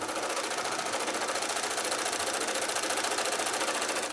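A sewing machine runs steadily and loudly for about four seconds, its rapid needle stitching forming a dense, even mechanical whir that stops abruptly at the end, with no talking over it.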